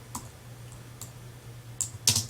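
A few scattered keystrokes tap on a computer keyboard, sparse and light, ending in a quick cluster of clicks, with a low steady hum underneath.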